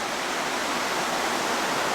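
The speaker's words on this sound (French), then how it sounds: "Et la rivière, on ne peut pas voir peut-être demain matin. On peut entendre quand même." A river on a Japanese onsen trip rushes steadily out of sight below a small balcony, a dense, even broadband roar with no breaks, close and continuous like a stream or small waterfall.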